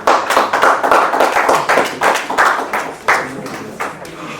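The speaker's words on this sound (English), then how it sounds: "A round of applause for Lola, please." An audience at an evening summit and awards event applauds a speaker coming up: a few seconds of brisk, moderately close hand clapping from a modest crowd that thins out toward the end.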